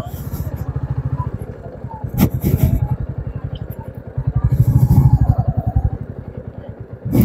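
A motorcycle idles with a rapid, steady thumping beat as bikes are parked near the Tibetan temple at Chandragiri, close and continuous, with people talking over the engine.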